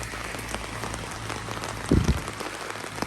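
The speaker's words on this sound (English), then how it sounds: "this is now Medjugorje in winter, in the rain" Winter rain falls steadily in Medjugorje, a constant hiss of drops on surfaces close around, with a brief low thump partway through and no voices.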